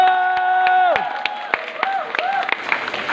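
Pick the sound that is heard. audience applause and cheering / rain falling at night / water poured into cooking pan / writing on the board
audience applause and cheering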